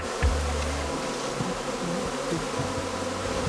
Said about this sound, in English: These are the least dangerous bees you'll ever find.